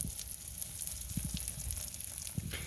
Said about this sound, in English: Alright, so the burgers are sizzling. They're sizzling real good.